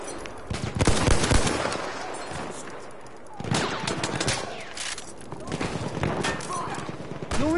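Machine gun fire in the World War I shooter Battlefield 1 rattles in rapid, loud bursts, easing off and then resuming, with game voices mixed in.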